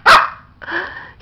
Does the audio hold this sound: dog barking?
yes